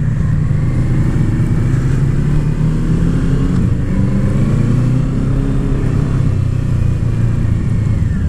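A 2019 Kawasaki Z650 parallel-twin motorcycle engine drones steadily while the bike is ridden, a continuous low, even rumble with wind and road noise and no pauses.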